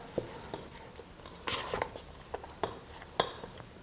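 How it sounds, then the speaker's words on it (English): A scraper chopping and stirring through stiff bao flour dough with a pre-ferment, giving soft, irregular sticky scrapes and taps with a few sharper strokes, close up, with no talking. "now we're going to mix everything together briefly with the scraper."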